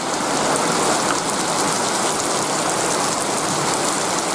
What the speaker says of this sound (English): It's raining in the dry season.